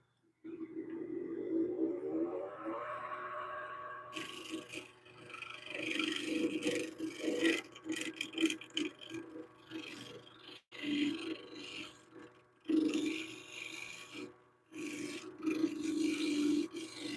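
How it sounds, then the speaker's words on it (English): A skew chisel cuts a wooden pen blank spinning on a lathe, giving close, uneven scraping and rasping strokes in irregular bursts with brief gaps, fairly quiet overall. "Maybe I can use the skew."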